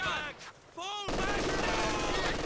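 Rapid machine gun bursts in Company of Heroes 2, a 2v2 real-time strategy battle, crackling loud and dense through the latter half amid other battlefield noise, with a voice talking briefly early on.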